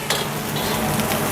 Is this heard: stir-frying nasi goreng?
yes